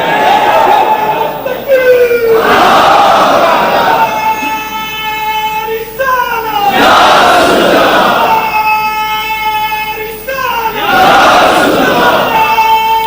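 A large crowd at a religious gathering chanting the Naara-e-Haidri slogan in loud call-and-response waves, three surging shouts of many voices answering a leader's sustained cry, with rhythmic pauses between.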